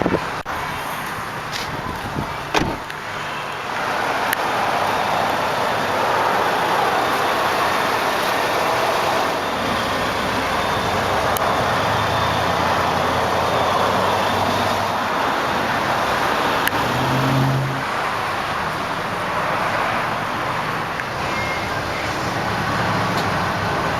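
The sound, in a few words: 2009 Scion xB 2.4 liter 4-cylinder engine running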